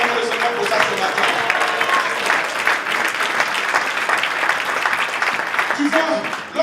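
Church congregation applauding and cheering for the Lord during a Sunday morning sermon, a steady, full wash of clapping that lasts throughout, with voices mixed into the crowd noise.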